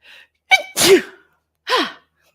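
A person sneezes loudly and close by, with a short inhale and a burst followed by a second explosive sneeze after a brief pause, in an otherwise quiet room.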